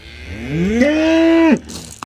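A single long moo from cattle on a farm, rising and then holding steady for about a second before cutting off, loud and close over faint background noise.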